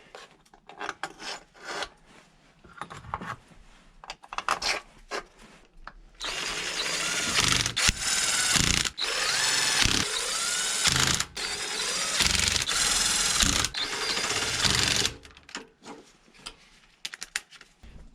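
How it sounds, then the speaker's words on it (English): An old Ryobi impact driver spins case bolts into a Big Bear 350 ATV engine case, giving a loud, continuous close whir that lasts about nine seconds, with brief breaks between bolts and quieter clicks and handling noises before and after. "this old Ryobi has very little impact. It's good enough to spin everything in"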